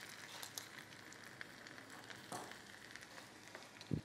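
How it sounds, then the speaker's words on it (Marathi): Finely chopped garlic sizzling in tempering oil after mustard seeds have popped, a quiet, steady close-up frying hiss with scattered small crackles and a louder pop near the end. "लसूण छान कडकडीत होऊ द्यायचा"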